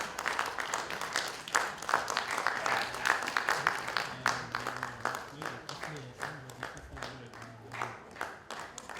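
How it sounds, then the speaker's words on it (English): Audience applause at a film circle event in Ibadan as a guest is brought on stage, a sparse run of claps at moderate level with voices and a low tone beneath, tapering toward the end. "Please usher Baba up on stage with a round of applause"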